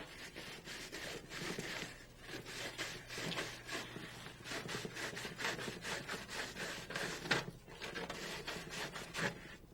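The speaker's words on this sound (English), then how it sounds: "Measure the diameter of the gauge and use the appropriate hole saw" Hole saw cutting through a piece of scrap material to size a gauge opening for a Rotorway 162F helicopter panel, a steady rasping grind with rhythmic pulses, close and fairly quiet.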